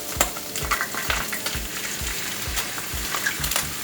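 Onions fry in a hot pan while making vaca frita. A steady sizzle runs under regular scraping strokes, about two per second, as they are stirred close by.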